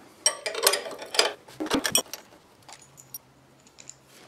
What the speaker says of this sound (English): step 1, we're going to take this bolt out of this bracket.